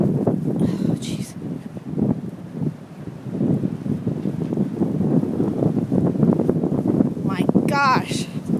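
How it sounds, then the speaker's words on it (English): Heavy wind gusting during a Chicago snowstorm near the lakeshore, a loud, constant roar and buffeting against the microphone, with people talking over it. "That is a heavy wind."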